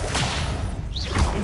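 An Incendio spell is cast in Hogwarts Legacy on PS5, a sharp whipping whoosh followed by a rushing burst, loud and close, lasting about a second.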